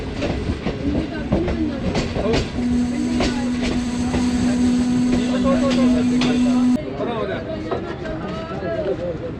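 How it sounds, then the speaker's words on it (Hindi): Awam Express passenger train pulling out of Golra Sharif Junction, a station built in 1881: a steady rumble and rail clatter run throughout, with a sustained tonal whine in the middle, and people can be heard talking nearby. "गोलड़ा शरीफ जंक्शन से डिपार्चर हो गया 14 डाउन अवाम एक्सप्रेस का"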